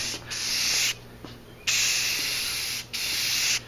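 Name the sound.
spray paint can spraying onto primed helmet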